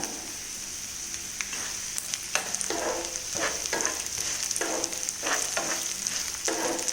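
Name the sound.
mustard and cumin seeds sizzling in oil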